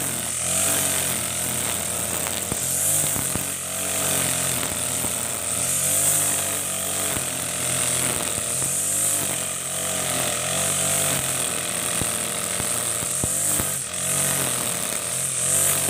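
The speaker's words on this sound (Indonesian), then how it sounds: "Hari ini saya mau potong pakai mesin four stroke atau mesin rumput 4 tak." A four-stroke grass cutter runs at a steady, buzzing roar while it cuts green grass, loud and close, its pitch rising and falling in a slow rhythm as the load changes, with no talk.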